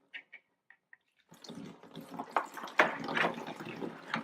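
A few faint drips, then a steady hiss of rinse water spraying from a backpack sprayer wand and nozzle and splashing, growing louder and more uneven toward the end.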